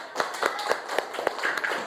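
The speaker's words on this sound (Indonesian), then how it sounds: "beri tepuk tangan untuk kelompok 3" Scattered hand claps from a classroom audience applauding group 3 during a coding and artificial intelligence lesson, about eight distinct claps spread unevenly rather than a full ovation, fairly close and moderately loud.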